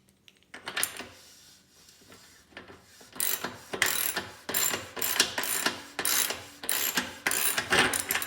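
Left-side cup of a threaded bicycle bottom bracket being screwed in, giving repeated bursts of close metallic ratcheting and clicking from the tool, a series of short strokes that grow steadier in rhythm over several seconds.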